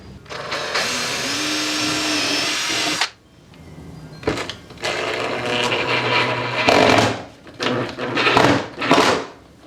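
Power drill driving screws into fuse boxes in the glove box of a 1964 Ford Ranchero, a sustained whirring run followed by several shorter bursts with brief pauses between, close and loud.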